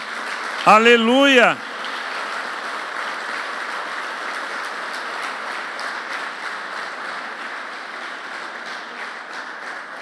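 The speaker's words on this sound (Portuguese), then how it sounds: "Aplauda o Senhor Jesus." A church congregation breaks into sustained, steady applause that fills the room, following a brief loud shout from a single voice.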